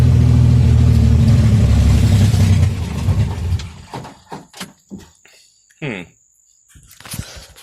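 A Chevrolet Corvair engine runs steadily for about three seconds with a low rumble, then sputters and dies away. A few faint irregular noises follow, along with spoken voices.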